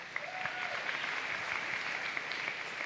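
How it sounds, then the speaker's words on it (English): Steady applause from a seated audience at a university gathering, dense clapping at moderate volume throughout with a faint voice briefly audible underneath. "give her a round of applause"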